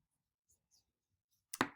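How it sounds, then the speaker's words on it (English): A computer mouse gives a quick click, a crisp double snap after near silence, with faint small taps before it. "So I'm going to click back on my date and clicking that"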